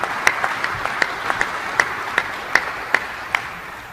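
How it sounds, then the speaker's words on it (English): A round of applause from a gathering, with a soft bed of clapping under distinct, evenly spaced louder claps landing roughly every half second in a steady rhythm. "Let's give Mindy and Bob Rich, in their absence, a great big round of applause"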